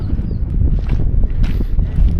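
Strong wind buffets the microphone at a dried-up dam and beaver area, a loud, continuous low rumble with gusty bursts and no clear speech.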